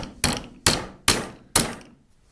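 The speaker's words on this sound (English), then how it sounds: "Suppose you do need a hammer" Hammer tapping an aluminium bracket to bend it during hand-tool lamp making, four sharp metallic taps at an even pace, close and loud, each ringing briefly before the next.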